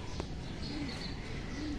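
A pigeon in a loft gives soft, low cooing calls a couple of times against a faint, steady background hum.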